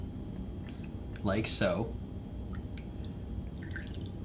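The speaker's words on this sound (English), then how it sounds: "The bottom is going to be Coole, so we're just going to pour a half ounce into each glass" Coole liqueur poured a half ounce at a time into cocktail glasses; soft, short drips and trickles come through under a brief spoken remark from a nearby voice.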